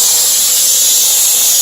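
A HomeRight SteamMachine steam cleaner jets a continuous, loud, even hiss of steam up close, steady from start to finish with no talk.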